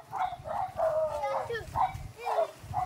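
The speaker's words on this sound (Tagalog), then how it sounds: "Oh, may aso." A dog barks repeatedly in a rural Philippine countryside setting, with rhythmic mid-range barks close by and people talking over them.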